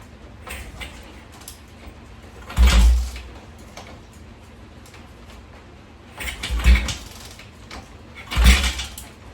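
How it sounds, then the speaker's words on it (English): Three separate kicks turn over a Honda CL72 Scrambler motorcycle engine, each a short, heavy thump and clatter spaced a few seconds apart, close up, with no catch and quiet in between. "let's just go ahead and start kicking this over"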